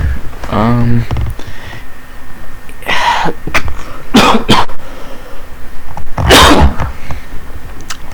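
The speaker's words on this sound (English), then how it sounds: "God, I want to stop coughing." Several sharp, explosive coughs come in separate bursts, close to the microphone and loud, with a short voiced sound before them.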